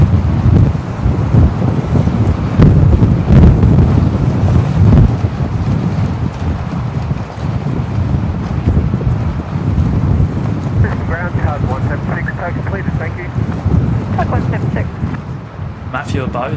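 Strong wind buffets the microphone at Brisbane Airport with loud, steady low roaring and gusting throughout, and a few faint higher tones show up near the end.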